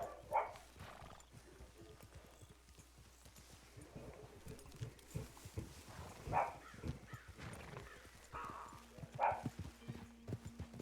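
Horse hooves clip-clop steadily on the ground in Red Dead Redemption 2, a faint, even rhythm running throughout with a few brighter snorts or jingles of tack over quiet game ambience.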